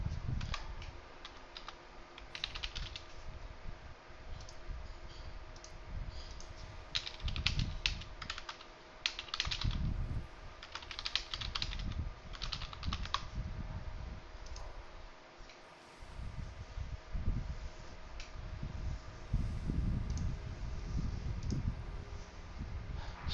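Computer keyboard typing comes in irregular bursts of rapid clicky keystrokes with short pauses between them, close and fairly quiet over a faint steady background hum, during a Diablo Immortal session.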